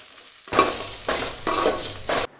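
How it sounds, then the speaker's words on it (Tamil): Curry leaves crackle in hot oil in a pan, heard as three loud bursts of bright sizzling spatter, each swelling and fading, before cutting off abruptly. "கருவேப்பிலையை போட்டு நல்லா வந்து எண்ணெயில் ஃப்ரை பண்ணி எடுத்துக்கணும்"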